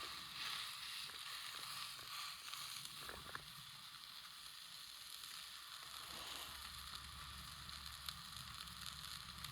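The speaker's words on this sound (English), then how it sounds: "Let's get a good sear on it. Piping hot." Meat sears in a hot pan over a campfire outdoors, giving a low, continuous hiss and sizzle with a few light knocks and scrapes early on.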